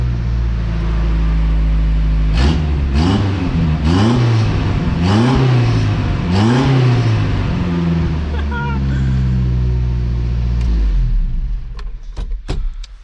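A supercharged junkyard truck engine revs repeatedly in several rising bursts, loud and close, with a supercharger whine, then settles to idle as people talk and exclaim nearby.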